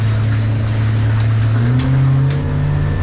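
A 2017 Hewescraft 180 Sportsman boat's outboard motor pulls steadily on the water, its drone climbing in pitch as the boat accelerates, loud and close for a few seconds.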